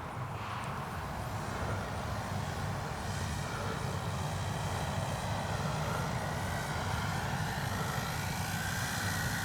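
A CNHL Bison XT STOL model airplane landing on rough terrain in a field, its propeller engine a steady, continuous drone throughout with no speech.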